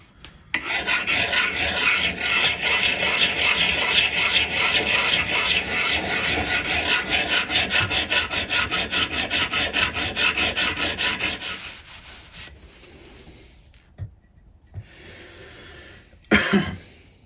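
A vintage axe edge being sharpened on oiled diamond stones, with a long, steady rhythmic rasping stroke sequence up close, then a pause, a few scattered scrapes and a final brief rasp.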